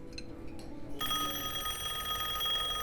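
An old telephone bell starts ringing about a second in, a loud, sustained metallic trill that carries on to the end over a quiet indoor room.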